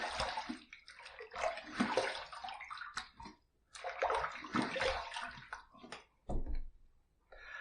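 Tap water running and splashing into a sink while rinsing after a wet shave, an uneven close spatter with brief pauses and changes in flow.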